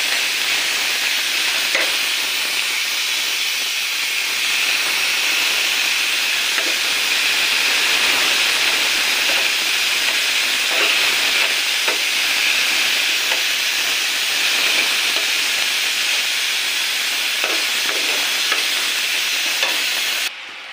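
Fish fries loudly in a pan, a strong, unbroken hissing sizzle with faint stirring ticks underneath, steady for about twenty seconds before dropping off at the end.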